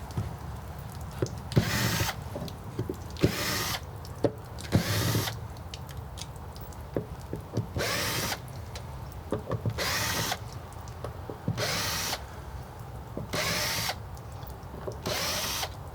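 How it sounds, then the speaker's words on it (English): A cordless drill backing screws out of a Girard tankless water heater, sounding in repeated short whirring bursts separated by brief pauses, close and fairly loud over a steady background hum, with no talking. "Boy, thank God for cordless drills"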